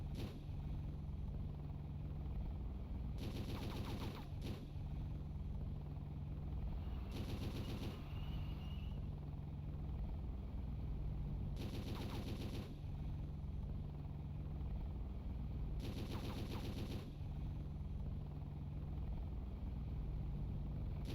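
Game Boy Advance war game Super Army War fires in four bursts of rapid electronic machine-gun shots, each lasting about a second, over a constant loud droning engine hum, with no talk.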